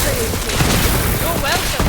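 Dense gunfire and booms roll through a Borderlands 3 battle, loud and continuous, with voices talking over the din.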